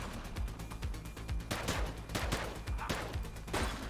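Rapid gunfire in The Precinct police video game comes as a string of sharp, punchy shots. The shots cluster in bursts over steady background game noise, loud and close.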